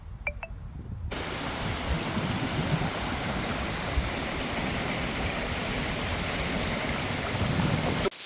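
Steady, broadband rush of river water flowing past a riverbank where people sit cleaning meat outdoors, continuous and fairly loud from start to finish after a brief quieter opening.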